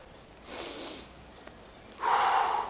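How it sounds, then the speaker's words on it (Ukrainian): Breathing during a back-strengthening exercise for scoliosis: a soft inhale through the nose, a pause, then a louder, breathy exhale through the mouth, close and without talk. "Вдих через ніс, видих через рот."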